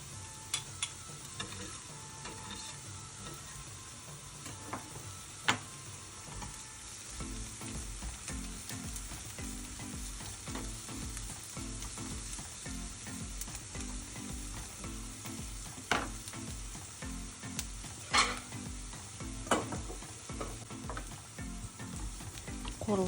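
Onion and garlic fry in a pan with a steady, close sizzle and crackle that runs throughout, broken by occasional light clicks and scrapes of stirring.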